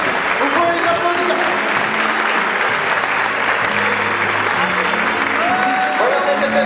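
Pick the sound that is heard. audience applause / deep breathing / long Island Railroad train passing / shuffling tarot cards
audience applause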